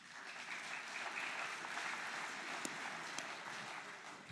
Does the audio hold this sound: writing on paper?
no